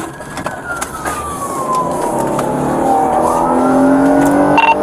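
A police car siren wails, gliding down in pitch and rising again over a steady engine rumble, close and loud, with no talking.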